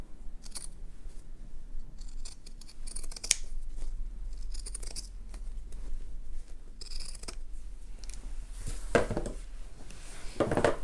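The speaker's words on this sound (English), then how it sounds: "Just trim these with my pinking shears all the way around this bottom curve" Pinking shears trimming fabric lining around a curve for a handbag, a series of close, crisp snipping cuts at uneven intervals with quiet pauses between them.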